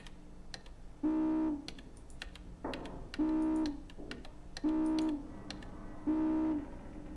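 A keypad in The Long Dark answers each press with a steady electronic beep, four evenly spaced tones mixed with soft button clicks, clear and close with no talking.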